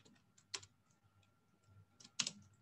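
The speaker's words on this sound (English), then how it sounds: "So I can type this quickly." Quiet computer keyboard typing during a MongoDB database query. Short bursts of clicky keystrokes come in two brief clusters, with soft gaps and faint room noise in between.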